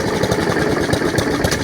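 A small overhead-cam lawn mower engine idles steadily and close by, with a rough, uneven chugging that never quite settles into a smooth rhythm.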